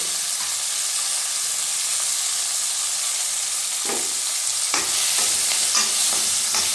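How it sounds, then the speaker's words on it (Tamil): Drumstick flowers with salt and turmeric sauté in hot oil, giving an even, close hiss and sizzle, with a few clattering stirs of the spoon toward the end. "கொஞ்ச நேரம் இது எண்ணெயிலே வதங்கட்டும்"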